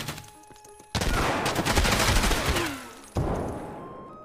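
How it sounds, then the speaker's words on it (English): Loud bursts of automatic gunfire in the video game Escape From Tarkov arrive in two abrupt volleys, the first sustained for about two seconds and the second starting sharply near the end, with no speech. "I shot the guy who's behind you."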